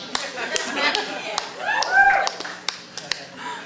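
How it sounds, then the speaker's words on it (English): An audience claps in bursts at a live poetry performance, with sharp scattered claps over a room murmur and some talking mixed in. "please, a big round of applause for Mr. Demitrius"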